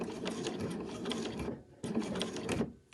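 A sewing machine stitches a fabric machine cover close by with a steady, fast mechanical whir and needle clatter. It stops briefly for a pivot at a corner, then resumes stitching.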